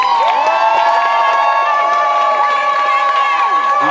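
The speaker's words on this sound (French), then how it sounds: "Veuillez applaudir s'il vous plaît." Wedding guests at a civil ceremony cheer and applaud just after the couple is declared married, a dense, lively crowd of clapping and shouts with excited, high voices mixed in throughout.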